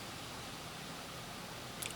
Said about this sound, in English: I think I'm getting more of the pre-soak.